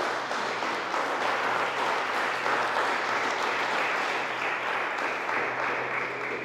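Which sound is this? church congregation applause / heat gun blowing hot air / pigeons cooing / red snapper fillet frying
church congregation applause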